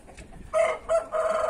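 A silver rooster crows nearby, a loud, clear call broken into three bursts with short gaps, over faint background noise.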